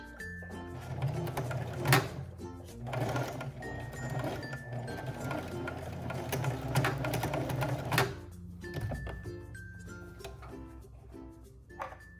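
A sewing machine stitches a small monogram letter, running in short whirring bursts with rapid mechanical clatter, brief pauses and clicks between runs, heard close and alone.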